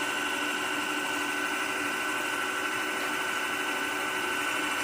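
A Bunafr home coffee roaster runs with a steady, moderately loud whirring motor hum and fan noise, unbroken and constant throughout, with no voices.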